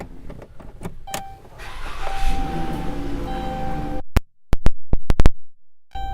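Power windows run on a 2014 Dodge Grand Caravan SXT: an electric motor whirs steadily for about four seconds and then stops, followed by a few sharp clicks and thumps in near silence.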